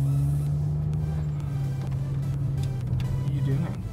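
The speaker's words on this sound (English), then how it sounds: "I'm just gonna park the car over here in the grass" Old beater car engine idling and rolling slowly as it is driven onto grass to park, a steady low hum close by with people talking over it.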